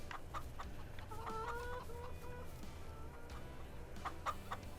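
Chickens clucking in Farming Simulator 22 on a farm during evening checks, several birds calling in short repeated clucks over a steady ambient bed, no talking.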